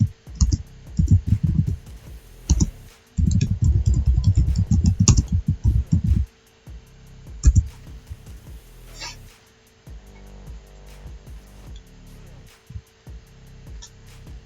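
Typing on a PC or laptop keyboard, bursts of rapid, close, loud key clicks in clusters separated by pauses, with quieter scattered taps later and no talk.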